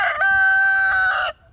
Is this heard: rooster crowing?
yes